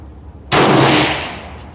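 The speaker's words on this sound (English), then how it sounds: "I'm going to be shooting at 50 yards with Hornady GMX full bore." A rifle shot from a .300 Blackout LFA complete upper firing Hornady GMX full-bore ammunition at an outdoor range: one loud, sharp blast that cuts in abruptly and rings out in a long decaying tail.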